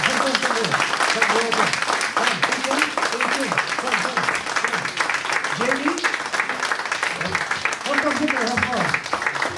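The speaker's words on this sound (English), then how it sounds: "I want you to give applause to this team that put together" Applause at a family community event in El Monte, steady clapping from the crowd with voices talking and calling out over it throughout.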